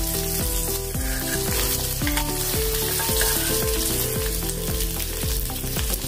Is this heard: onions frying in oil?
yes